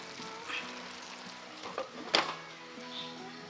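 Onion and cashew masala fries in a pan with a steady, close sizzle, interrupted by a brief scraping stir and clatter of a utensil near the middle.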